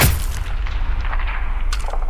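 A single rifle shot fired at a deer during a hunt in Ohio, a sharp report at the very start followed by a fading rumble and quiet outdoor ambience.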